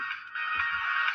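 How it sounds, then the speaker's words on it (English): A phone rings with a steady electronic tone, close and continuous for about a second, with no voices over it. "The phone's ringing."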